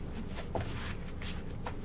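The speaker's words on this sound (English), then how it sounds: "I definitely want to do another shuffle." A tarot card deck being shuffled by hand, brief soft riffling and sliding bursts of cards with light handling noise, close and quiet.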